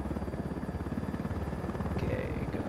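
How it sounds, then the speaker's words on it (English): A helicopter chopper in the video game Ghost Recon Wildlands, heard as a steady rhythmic rotor thump with engine drone, moderately loud and continuous, as though from inside or close to the aircraft. "Okay, going to land the chopper"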